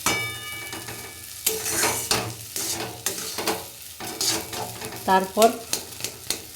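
Semolina stirred in a pan until dry and crumbly, with soft sizzling and repeated scraping strokes in an irregular rhythm, close by, with someone speaking briefly between strokes.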